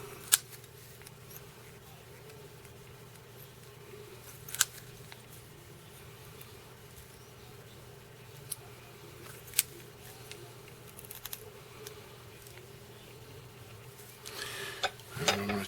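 Scissors snip now and then while material is trimmed away on a Hornberg Special trout and salmon fly. The cuts are a few faint, sparse clicks over a quiet, steady background.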